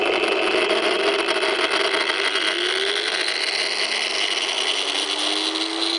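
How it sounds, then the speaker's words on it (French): A 700-watt angle grinder runs alone at high speed, a loud continuous whine with a harsh mechanical buzz, its pitch slowly climbing as it spins up. "J'allume la disqueuse."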